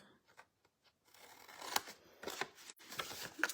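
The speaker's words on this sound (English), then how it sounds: "So we're going to cut these tabs off." Scissors snip corner tabs off a sheet of paper in a few short, quiet cuts with faint rustling between them, close by.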